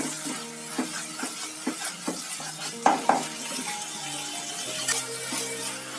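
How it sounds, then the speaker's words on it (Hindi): Masala with turmeric frying in a pan for a potato curry, a soft steady sizzle under rhythmic scraping and tapping strokes from a spoon, close up, with a few louder knocks against the pan. "मसाला हमारा भुन चुका है, हल्दी पाउडर भी अच्छा से भुन गया है।"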